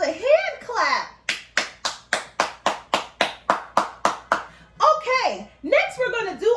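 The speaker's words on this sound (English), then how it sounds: "Give yourselves a hand clap." A class of young children claps hands in a steady, evenly spaced run of about a dozen sharp claps, framed by excited children's voices before and after.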